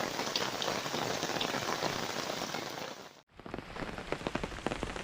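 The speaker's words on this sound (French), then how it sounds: "on entend toujours l'orage, il pleut toujours." Heavy rain pours steadily during a thunderstorm on an island in Panama, pattering densely on surfaces, with a brief dropout before the downpour resumes just as strongly.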